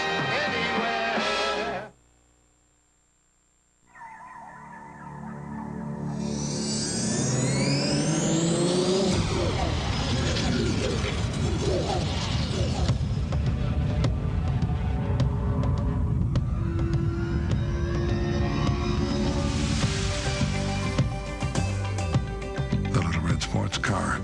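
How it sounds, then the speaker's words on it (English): A Volvo 850 Sports Wagon in a 1993 TV advert drives and accelerates, its engine rising under music and voices, with a steady whooshing rush after a brief silent gap near the start. "Introducing the Volvo 850 Sports Wagon"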